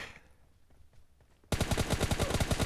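An M416 assault rifle fires in PUBG Mobile Lite on an icy map: after a quiet stretch of faint background noise, a sudden loud, rapid automatic burst of roughly a dozen closely spaced shots runs to the end.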